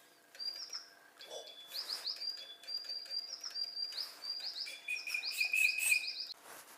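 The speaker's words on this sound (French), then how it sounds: "Voici cet oiseau qui va nous accompagner pendant notre recette." A small pet songbird, a little singing bird kept indoors in a kitchen, chirps and twitters continuously in bright, rapid trills and repeated high notes, close and fairly loud, with no talking over it.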